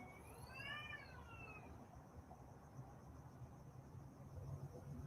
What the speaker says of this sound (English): Do you guys hear the cats?